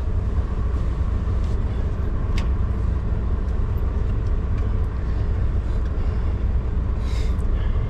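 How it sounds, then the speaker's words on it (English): A truck backs up and shifts a trailer, giving a steady low engine rumble with continuous road-like noise throughout, fairly loud and even, no speech. "Back out of here, back up some, move the trailer over."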